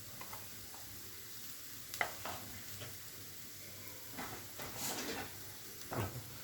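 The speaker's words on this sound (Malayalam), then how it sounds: "പച്ചമണം മാറുന്നത് വരെ ഒന്ന് ഇളക്കി കൊടുക്കണം." Cumin powder and turmeric with garam masala being stirred in a pan, a quiet soft sizzle under intermittent scraping strokes of a spoon, close and faint with small ticks and no speech.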